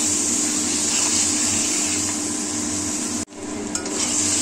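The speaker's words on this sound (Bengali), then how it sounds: "তো এটাকে আমি এখন ভালো করে কষাবো।" Gravy sautés in a pan with a loud, steady sizzle and stirring, cut briefly by a sudden drop near the end before the frying noise resumes with a faint clink.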